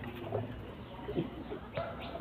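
A pigeon coos softly a few times, low and gentle, close by in a quiet space.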